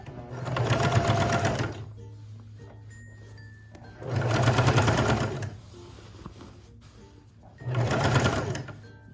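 A sewing machine stitches along the gathered waistline of a full-skirted mini dress, running loudly and close in three steady bursts separated by short pauses.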